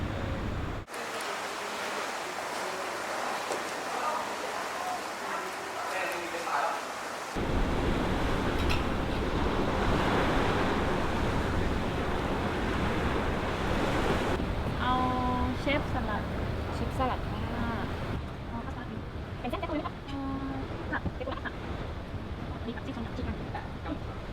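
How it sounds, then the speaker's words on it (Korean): Ocean waves wash onto the shore at a beach resort in Pattaya, heard as a steady broadband surf roar with wind, moderately loud and continuous, while faint clinks and background activity sit beneath it. "바닷소리 들리고"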